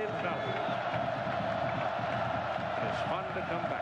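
A Penn State college football crowd of about 95,000 in the stadium at Happy Valley gives off a broad, steady roar from a distance, continuous and unbroken beneath a commentator's voice.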